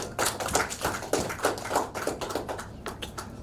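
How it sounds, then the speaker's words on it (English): An audience at an award ceremony and training program launch claps for faculty members in a steady run of overlapping claps, moderately near and fairly quiet. "give a big round of applause to the faculty members of BSDA"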